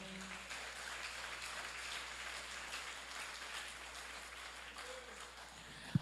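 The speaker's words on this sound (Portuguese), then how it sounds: "Levante a mão direita e a esquerda e aplauda o Senhor" A church congregation applauds with steady, dense clapping that holds at an even level throughout, like a soft roar, with no voices standing out.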